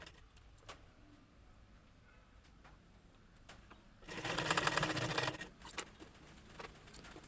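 A sewing machine stitches the hem of a blouse in one rapid mechanical burst of about a second and a half, set among quiet handling noises and small clicks, with no speech.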